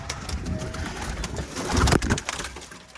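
Pigeons coo softly nearby in stormy weather, with rustling and a brief burst of flapping wings midway as birds are flown, all fairly quiet.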